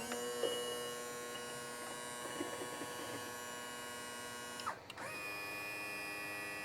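Hydraulic tilt-and-trim pump raising a Mercury 250 Pro XS outboard motor, a faint steady electric whine with a brief change in pitch near the end, no talking.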